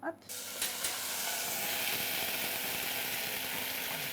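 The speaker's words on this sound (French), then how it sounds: "je mets un peu de matière grasse pour... Voilà, c'est ça, un petit peu d'huile d'olive" Olive oil heating in a pan as a base for leeks, bursting into a sudden steady sizzle and hiss that holds evenly, close and fairly loud, with no talking.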